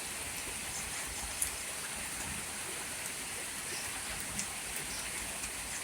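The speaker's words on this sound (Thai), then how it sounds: "เอาบรรยากาศยามเช้าฝนตก ที่อำเภอทวัดบุรีมาฝากท่านผู้ชมเอฟซี ทุกท่านนะครับ" Steady morning rain falls in a rural village in Thawat Buri district, Roi Et, Thailand, a continuous even hiss of drops with a couple of faint nearer taps and no voices.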